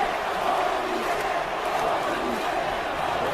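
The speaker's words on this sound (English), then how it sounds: "Now the crowd is revving up for this." A wrestling arena crowd in the WWE 2K17 video game roars continuously, a dense, steady wash of cheering and chanting that stays loud and unbroken throughout.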